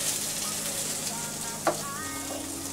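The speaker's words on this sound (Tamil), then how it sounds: "கடுகு ஒரு அரை ஸ்பூன் போல் போட்டுக்கிறேன். உளுந்தும் ஒரு அரை ஸ்பூன் போல் போட்டுக்கலாம்." Mustard seeds and urad dal crackle and splutter steadily in hot oil for an eggplant chutney, a close, continuous sizzle with a few sharp pops and a faint clink.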